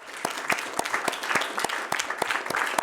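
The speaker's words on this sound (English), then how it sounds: "let's give a big round of applause to our panelists" Conference audience applauding the panelists, steady dense clapping from a room of people continuing without pause.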